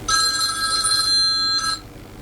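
A telephone rings with a bright electronic trill, one long ring followed by a short second burst, loud and close, with no voices.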